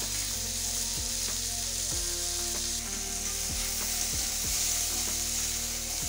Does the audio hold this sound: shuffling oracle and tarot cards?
no